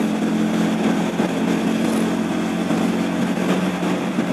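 Motorcycle engine running steadily while riding on a road in Padang Gelugur, a continuous near drone with a constant hum and no break across the short stretch.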